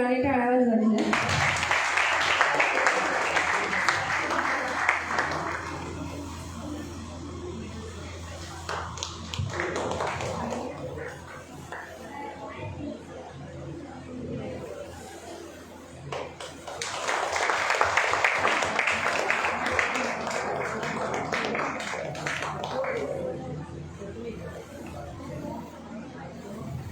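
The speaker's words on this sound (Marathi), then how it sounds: "सर्वांनी टाळ्या वाजवायच्या." An audience claps at a school ceremony honouring SSC toppers as a student's name is called. Two long bursts of steady applause come from the room, with chatter and hubbub between and under them.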